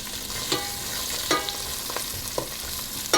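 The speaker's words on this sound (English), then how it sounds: "We're just going to stir this dude around." A large diced onion sizzles steadily in hot oil in a stew pot for Irish beef stew, with a spoon scraping and stirring in irregular strokes, close and continuous, no voices.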